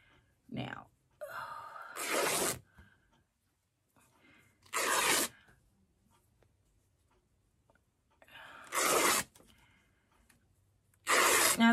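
Fabric ribbon being torn in several sharp, loud ripping bursts, each lasting about half a second, separated by quiet gaps, with a few short voiced sounds between them.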